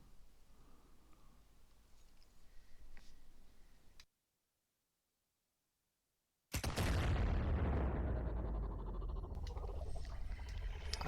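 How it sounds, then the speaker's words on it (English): Gunfire in the Mafia II video game: a dense, loud burst of shots erupts after a few seconds of quieter game ambience and a brief silence, then continues as a sustained roar. "That explosion is always so loud. Well, not explosion, but bullet fire."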